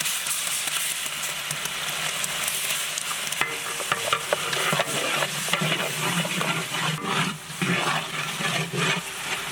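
Sliced onions and ginger garlic paste sizzling in a pan for mutton paya curry, a loud steady hiss of frying with stirring scrapes and brief spatters running throughout.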